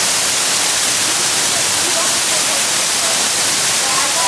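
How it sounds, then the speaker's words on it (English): A waterfall in Monteverde, Costa Rica, pours with a loud, dense, unbroken hiss of falling water close at hand, steady for the whole stretch. "so we're at the waterfall"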